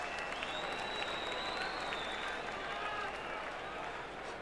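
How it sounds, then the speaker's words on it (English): Crowd roaring at an Australian football match, Adelaide Crows versus Footscray Bulldogs in 1992, after a goal: a loud, sustained stadium roar with whistles and cheers filling the whole stretch, and a commentator speaking over it. "And listen to that crowd."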